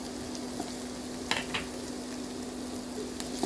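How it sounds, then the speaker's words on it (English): Steady sizzling of sliced carrot frying in a pan, with occasional light utensil scrapes and taps over a constant background hum. "Let's adding frying our sliced carrot."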